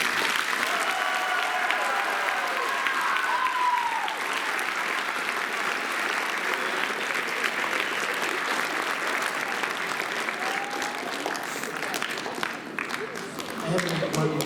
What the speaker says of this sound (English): I feel like we need another round of applause for you